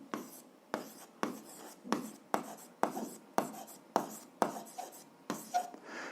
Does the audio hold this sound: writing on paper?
yes